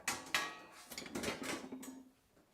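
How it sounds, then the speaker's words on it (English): A metal whisk is grabbed from among kitchen utensils while melting ingredients for lobster mac and cheese, giving a brief, close rattling clatter of cutlery and metal tools, with no talking. "And grab a whisk."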